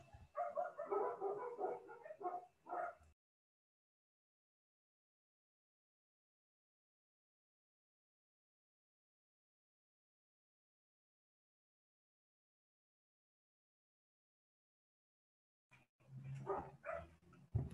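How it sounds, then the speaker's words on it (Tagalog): Dogs barking and whimpering in the background, a burst of yips over the first three seconds, then a long silence before a short bark or two returns at the very end. "Pagpasensya nyo na yung mga dogs dito sa background ko."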